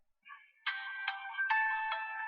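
Startup jingle of a Samsung Galaxy Note7 phone rebooting: a soft opening tone, then a bright chime-like melody struck in four evenly spaced notes over a sustained tonal bed, clear and close with no voices.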